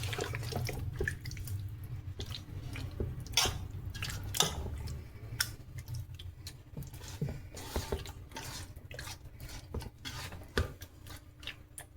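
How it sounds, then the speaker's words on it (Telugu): A glass of water poured into a pot for Nellore fish curry, running and splashing with scattered drips and clinks, fairly quiet and irregular, no talking. "ఒక గ్లాస్ నీళ్ళు పోస్తున్నానండి"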